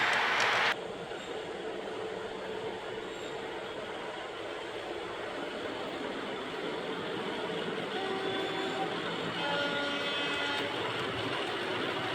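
A model Class 37 locomotive running steadily around a model railway layout, a continuous close rumble and whir of small wheels on track with faint squeals near the end, no talking.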